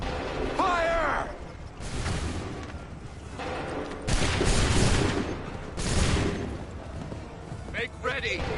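Soldiers' muskets fire in volleys in Assassin's Creed 3, several loud broadband blasts spaced a second or two apart over continuous battle noise, with shouted voices between the shots.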